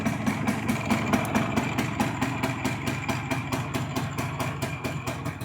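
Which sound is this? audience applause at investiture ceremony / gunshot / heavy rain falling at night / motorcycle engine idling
motorcycle engine idling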